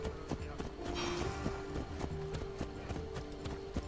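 Horse hooves clip-clop in a steady, even trot in the video game Assassin's Creed Odyssey, with a faint tonal hum running beneath and no talking.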